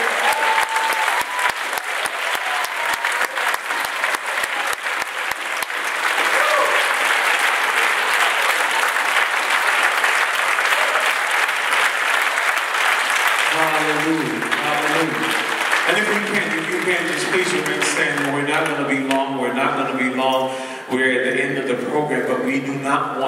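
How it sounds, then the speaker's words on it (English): Sustained applause from a church audience after a gospel dance ministry performance, loud and steady throughout, with organ or keyboard music rising underneath in the second half. "will you put your hands together for this dance ministry?"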